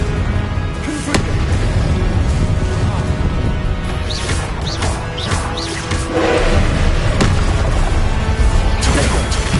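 Confringo blasting curse explosions in a Harry Potter video game, loud repeated booms and crackling bursts layered over continuous game music and effects, with talking underneath.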